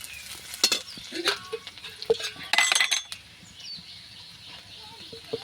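Spice paste with turmeric and salt sautés in oil over onions for a Bengali rohu fish curry, giving soft sizzling broken by a few sharp scrapes and clinks of a stirring spoon against the pan.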